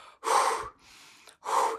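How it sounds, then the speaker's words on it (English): Rapid, heavy breaths after exertion come close to the microphone: two loud, airy gasping inhalations separated by a softer exhale, with no talking. "you're noticing you're breathing really fast"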